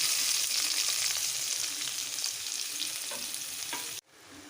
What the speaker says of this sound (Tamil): இந்த வெங்காயம் தக்காளி இதில் போட்டு நல்லா வதக்கிக்கிறேன்